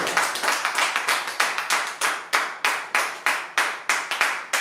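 A church congregation clapping in unison, a fast steady rhythm of sharp claps about four per second, loud and close, with no talking.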